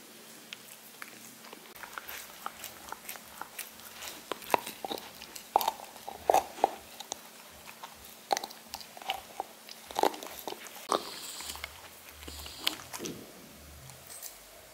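A Cocker Spaniel gnawing a Trixie shin bone, with close, steady crunching, biting and wet chewing sounds in irregular bursts, loud and near, with no talk.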